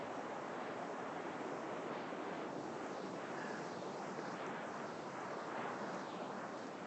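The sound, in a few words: ocean waves at Big Wave Bay beach, Hong Kong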